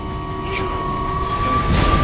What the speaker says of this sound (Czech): Bylo krátký vláček.